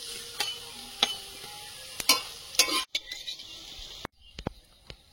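Pumpkin leaf fritters fry in a pan with a steady sizzle, broken by several sharp clicks and scrapes of a utensil as pieces are lifted out.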